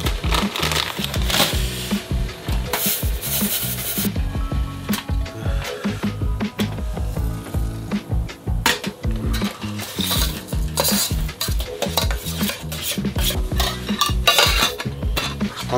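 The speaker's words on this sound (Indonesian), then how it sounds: "hari ini aku ingin masak yang simple, yaitu goreng-gorengan aja guys" Fritters frying in a pan while being stirred: a steady loud sizzle under repeated metallic scrapes and clinks of a utensil against the pan, close up and continuous, with no talking.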